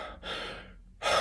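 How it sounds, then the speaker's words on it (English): Deep breaths drawn in and out through the mouth follow one another without pause, with a breathy, airy rush on each breath, close up and alone. "it's a simple in and out through the mouth breathing, deep breaths in through the mouth"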